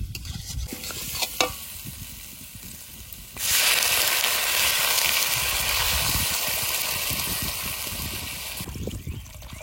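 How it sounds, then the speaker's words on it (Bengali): Water pours into a pan of fried potatoes and spices for a catfish curry, setting off a sudden loud, sustained hiss and sizzle that runs for several seconds before easing, with stirring clatter before and after. "সুন্দর করে আলু আর মশলা কষিয়ে নিয়েছি, এবার জল দিয়ে দেবো।"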